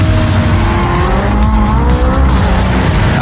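A vintage Le Mans-winning Porsche race car roars continuously in the racing game Project CARS 2, with a loud, dense engine drone and tires squealing and skidding through a corner, no voices.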